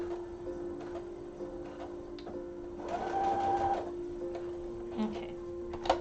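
A sewing machine runs in short bursts of rapid mechanical stitching, steady and close, with small clicks and pauses between runs.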